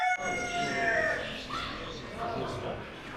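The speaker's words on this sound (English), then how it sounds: "You see, there are a lot of chickens, right?" Chickens in a Moroccan village cluck and call in a busy outdoor scene, moderately close, with a brief crowing note near the start and a person speaking over the birds.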